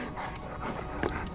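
Panting dog in Dead by Daylight, the Houndmaster killer's hound: steady, rapid breathy pants running throughout at moderate level, with a slightly stronger breath near the end.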